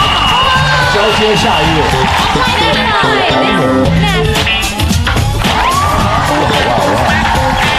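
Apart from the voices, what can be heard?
audience applause and cheering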